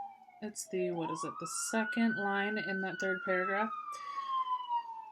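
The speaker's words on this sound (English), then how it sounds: "Excuse the sirens." A police siren passes outside with a long, slowly rising and falling wail, fairly faint under a person reading aloud nearby.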